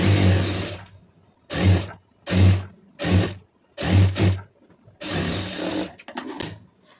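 A sewing machine stitching the lining of a cotton blouse runs in about six loud, close bursts of whirring, with short quiet pauses between them and a quick stuttering run at the end.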